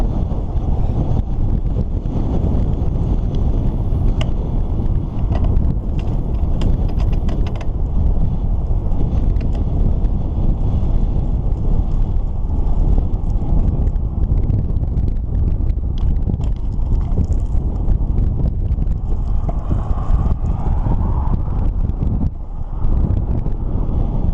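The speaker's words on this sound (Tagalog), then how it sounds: "sobrang lakas ng hangin." Strong wind buffets the microphone during a bike ride in a constant heavy roar for the whole stretch, with faint rattles and thumps underneath.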